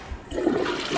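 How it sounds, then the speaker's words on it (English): A toilet flushes in the video game Prey, a brief rushing gurgle of water that swells through about a second without talk. "Flush the toilet."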